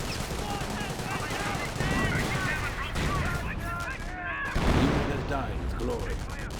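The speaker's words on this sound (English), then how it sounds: "Officer artillery raining on in." Artillery shells rain down in a Company of Heroes 1 match, a rolling barrage of overlapping blasts and bursts that stays busy throughout at moderate loudness with no clear gaps, while a commentator talks over the noise.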